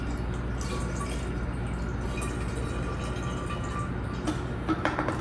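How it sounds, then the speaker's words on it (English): Water pours steadily into a homebrew porter fermenter, a continuous splashing, trickling rush that keeps going throughout, with a few brighter drips and clinks near the end. "So what I normally do here is I'll pour about half of the water in."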